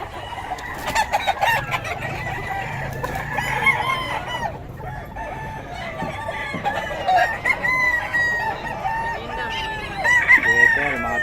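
A Sweater breed gamecock rooster crows repeatedly amid clucking fowl, loud and close, with faint background voices and ambient noise throughout.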